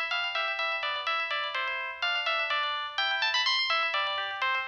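A cell phone ringtone from the anime Re:Zero plays loud and alone, a bright repeating electronic melody of quick tonal notes looping in steady phrases.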